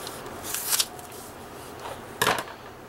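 Scissors cutting through note cards, two short crisp snipping bursts about a second and a half apart, close and fairly quiet, with no talking.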